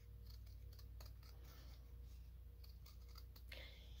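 Scissors snipping around a recycled-paper circle for flower crafting, a series of small crisp cuts close by, faint and quiet over low background hum.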